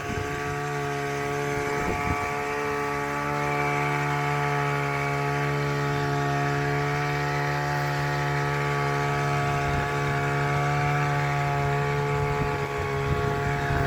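Motorized sprayer engine revving steadily while spraying hormone over a tall cassava field, loud and continuous with a dense, unbroken droning hum throughout and no talk.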